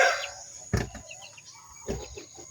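Mestizo labuyo jungle fowl rooster giving a few short, close clucks and scratchy calls, separated by quiet gaps, with light rustling around it.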